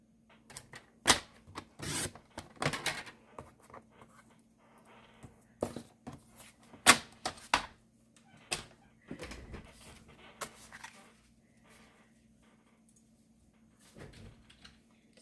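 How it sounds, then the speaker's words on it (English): Card paper is trimmed on a cutter for a handmade card, with close, quiet bursts of sliding, scraping and clicking that come and go, separated by near silence. "And then I'll cut an 1/8 of an inch off here so that the space is all even around."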